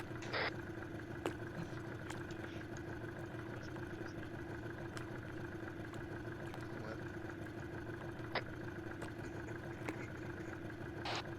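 A steady, low boat engine drone in the video game Arma 3 runs throughout at a constant pitch, with occasional faint clicks and taps on top and no speech.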